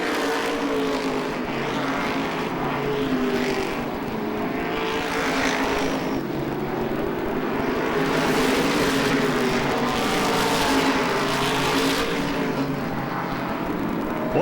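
A field of race cars circles Lee USA Speedway at an Oktoberfest meet, a dense, loud engine roar swelling and fading as cars pass, continuous for the whole stretch.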